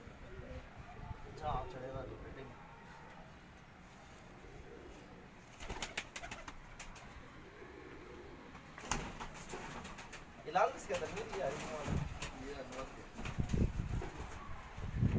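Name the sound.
pigeons on a rooftop loft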